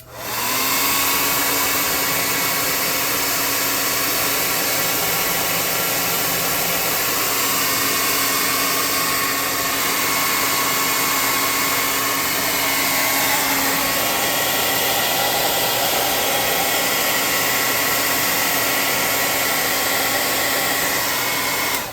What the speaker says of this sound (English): Let's hot air gun this bad boy and dry that up.